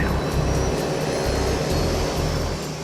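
A de Havilland Twin Otter turboprop takes off from runway 12, bound for Tahiti, with a loud, steady engine and propeller roar that fills the whole clip and eases slightly toward the end.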